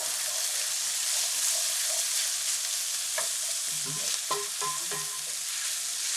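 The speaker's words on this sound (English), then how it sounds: "I'm gonna add the guanciale into the sofrit and give it a good stir." Guanciale frying in soffritto while being stirred, a steady close sizzle with scraping and knocking from the spoon in the pan toward the end.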